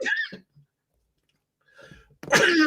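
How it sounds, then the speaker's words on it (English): A single sharp cough up close, followed by silence, then a burst of breathy vocal noise near the end. "I'm coughing."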